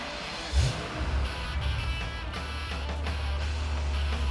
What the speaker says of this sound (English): when you start the V12, it sounds like no other car